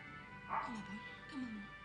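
A dog on the TV show Lassie gives two brief, high whimpering whines, with voices speaking faintly under them.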